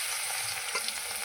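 Coriander-leaf chops dropped into hot oil in a wok hiss and bubble in a brief, close, steady sizzle with a faint stirring knock.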